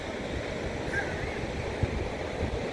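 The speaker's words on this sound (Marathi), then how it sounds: "असा सुंदर असा निळाशार समुद्र आहे शिरोडा बीचचा" Sea waves washing onto Shiroda beach on the Konkan coast, a steady broadband surf roar with some wind noise, continuous and moderately loud with no voices.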